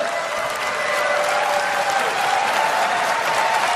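A large audience at the 2015 Apple keynote claps continuously, a thick, even roar of applause that stays loud and steady from start to finish without speech.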